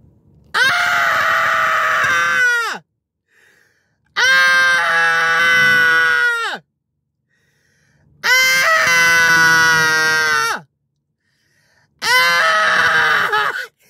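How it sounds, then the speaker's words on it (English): A person screams four times from inside a car in long, loud bursts separated by short silences, the voice sounding close and somewhat boxed in. "I'm going to try screaming from inside the car"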